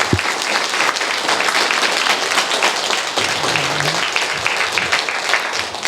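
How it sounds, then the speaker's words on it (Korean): A church congregation claps in sustained, dense applause at an honorary service installing a senior pastor; the loud, even clapping fills the room steadily with no pauses. "우리 모든 분들께 한번 감사 박수 한번 드리겠습니다."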